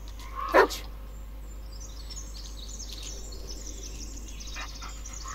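A dog in the video game Blair Witch gives one short, sharp bark early on, followed by faint bird chirps over a quiet forest background hum.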